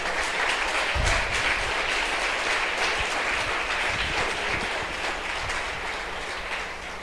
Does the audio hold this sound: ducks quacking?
no